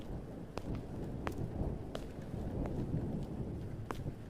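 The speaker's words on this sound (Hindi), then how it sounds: "बारिश अब और भी तेज हो चुकी थी। बादल बहुत जोर से गरज रहे थे।" Heavy rain hisses in a constant wash while thunder rumbles low beneath it, with sharp crackles and drips standing out at intervals; a stormy night outdoors, no voices.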